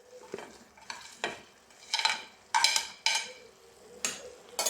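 A spoon stirs fried brinjal in a pan in about seven distinct scraping strokes, each a close, bright swish over a faint sizzle, coming at a loose, uneven rhythm with no speech.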